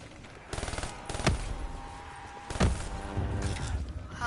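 Burst-fire gun in a video game firing a couple of sharp, loud bursts about a second apart, with clattering mechanical game sounds between them and no talk.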